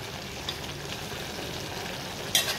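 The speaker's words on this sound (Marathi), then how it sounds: "आता पुन्हा आपण घाटा मारूया बघा भाजी" Mixed fasting vegetables cooking in a pan, with a steady soft sizzle close by and a brief scrape of stirring near the end.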